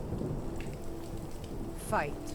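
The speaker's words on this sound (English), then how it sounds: "Oh, it started raining." Steady rain hiss falls across a Skyrim game scene, with low rumbling beneath and a brief rising whistle-like tone near the end, under faint background voices.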